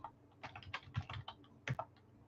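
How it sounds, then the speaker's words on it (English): Rapid typing on a computer keyboard, irregular bursts of keystrokes close and clear over a couple of seconds, with no talking. "why am I typing Miami?"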